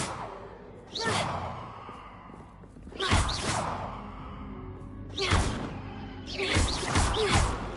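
A spell blast in Hogwarts Legacy bursts out as several whooshing, crackling fiery surges, spaced a couple of seconds apart, with a loud swell on each cast and no talk.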